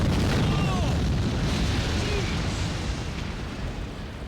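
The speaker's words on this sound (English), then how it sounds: "Good looking explosion. It's a real explosion." A deep, rumbling explosion of a house in the film Surf Ninjas roars and slowly fades, broad and heavy with a cinematic boom, dying down over several seconds.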